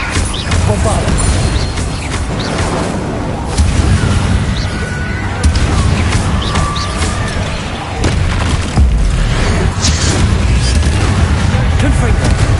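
Booming spell blasts from the Bombarda and other combat spells in Hogwarts Legacy, dense and loud throughout with repeated low impacts, layered with game effects and bursts of voice.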